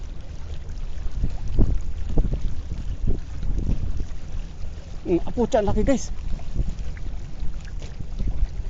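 Strong wind buffets the microphone in a steady low roar while fishing from a boat in shallow water, with someone talking throughout and a brief whistling squeal partway through.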